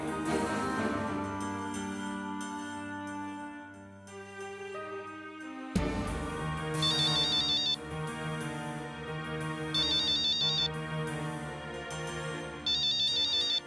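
A telephone ringtone plays alone in a quiet room: a steady melodic electronic ring with bright repeating chirps, continuing without pause for well over ten seconds.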